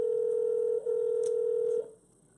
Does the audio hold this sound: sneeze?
no